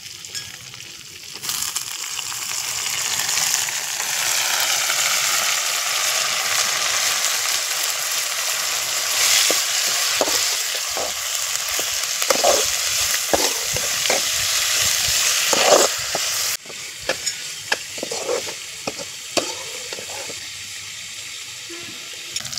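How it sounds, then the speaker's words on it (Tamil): Thuthuvalai leaves and chopped tomato sauté in a hot pan for a thuvaiyal, with a steady sizzle and repeated stirring scrapes that continue with no talk. "இப்போ தூதுவளை சேர்த்து வதக்கிடலாம்."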